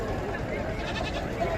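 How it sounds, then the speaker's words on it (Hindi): A goat bleats at a goat market during the Qurbani season, its cries mixed into a busy crowd murmur with people talking nearby throughout. "बहुत ही खूबसूरत बकरा आपको दिखा रहे हैं, खीरा बकरा।"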